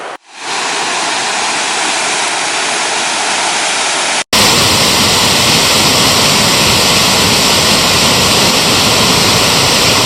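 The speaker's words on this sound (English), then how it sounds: "So that was Dawn Mist Falls." Dawn Mist Falls, a waterfall in Glacier National Park, roars with a steady broadband rush, starting slightly muffled and then turning louder and fuller after a brief cut, with no voices.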